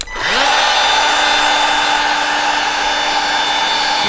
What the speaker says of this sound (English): You take the heat gun,